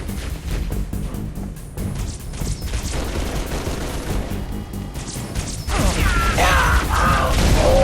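Gunfire rattles through a battle in Halo: Reach's Winter Contingency mission: dense bursts and impacts layered with mechanical clatter, growing louder and busier toward the end.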